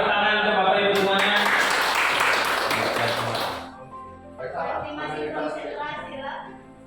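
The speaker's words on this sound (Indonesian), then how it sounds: "tepuk tangan untuk Bapak Ibu semuanya" An audience at an Indonesian education event claps in a dense burst for a few seconds, and the applause then fades under a speaking voice.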